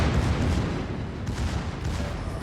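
Heavy rear gun turrets on the warship Schlieffen in World of Warships fire in deep rumbling salvos, a loud sustained low boom with a couple of sharper reports layered in, and no voices.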